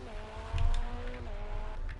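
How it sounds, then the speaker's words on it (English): A Porsche race car engine in a 24 Hours of Le Mans racing video game drones steadily for two seconds, swelling briefly and then dropping slightly in pitch as if shifting gear. "We haven't had much coverage, I think, for the engine sound for the Porsche at the moment"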